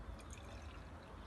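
Glue dissolved in warm water poured into a jar for a glitter calming jar, a soft, faint trickling stream running continuously for a moment.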